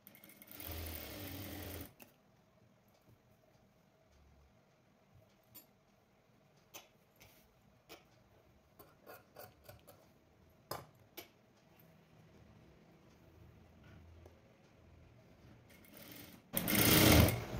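A sewing machine stitches joined lining pieces for a blouse. A loud burst of rapid stitching opens, followed by quiet handling with scattered clicks and taps, then another fast, loud run of stitching at the end.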